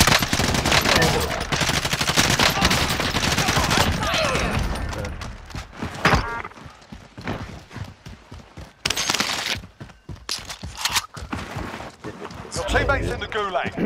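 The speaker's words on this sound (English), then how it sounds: "Taking fire over here." Gunfire in the video game Call of Duty Warzone, dense bursts of automatic fire and scattered shots, loud at first then thinning into sporadic cracks, with players talking over it.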